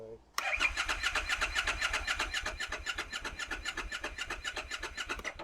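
A Harley Davidson motorcycle engine cranks on the starter without catching, a fast steady rhythmic churning that runs close and continuous after a sudden start.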